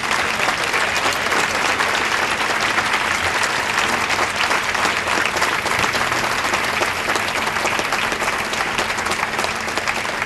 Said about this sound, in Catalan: jo també faria un aplaudiment per tota la gent de TEL